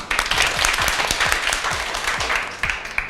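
A class of young schoolchildren applauds together in a room, a dense and steady burst of clapping that holds at a lively level throughout, with faint voices mixed in.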